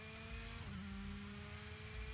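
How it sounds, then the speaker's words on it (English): A race car in the Project Cars 2 driving game holds a steady engine drone with a faint tire squeal and a brief pitch shift near the middle, continuous and quiet with no voices. "The squealing of the tires, the engine"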